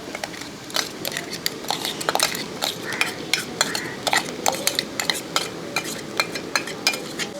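Potato curry stirred in a pan with a spoon, producing a steady series of scraping and clinking strokes against the metal over a low simmering background, close and moderately loud.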